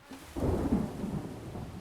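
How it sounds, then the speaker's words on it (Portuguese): Heavy rain pours down as a low rumble of thunder rolls in, a dense, steady hiss of falling water under a deep, swelling roar that stays loud throughout. "quando começou a chover muito. Olha a chuva."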